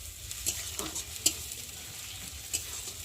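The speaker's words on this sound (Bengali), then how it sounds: "আর এখন আমি ভালো করে ভেজে নেব।" Steady low sizzle of onion and garlic frying in a pan, with a few soft scraping stirs poking through; close by, no voices.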